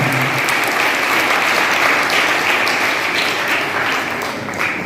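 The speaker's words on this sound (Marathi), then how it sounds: "तिच्यासाठी सुद्धा जोरदार टाळ्या झाल्या पाहिजे" Loud, dense applause from a school audience at a Shivaji Maharaj Jayanti celebration, sustained clapping filling the whole stretch and tapering slightly at the end.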